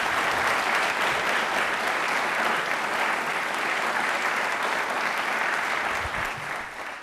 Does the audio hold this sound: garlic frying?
no